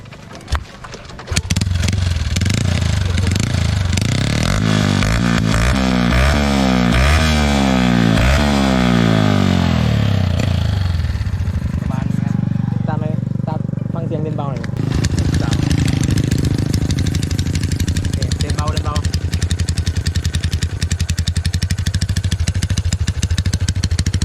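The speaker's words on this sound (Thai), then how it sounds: "เสียงท่อ เสียงเครื่องได้ยินอยู่แล้ว" Honda Wave 110i motorcycle with a full-system build and a very loud aftermarket exhaust, running close by: the engine revs up in repeated rising bursts, then settles into a loud, steady, rumbling idle. A voice talks intermittently over it.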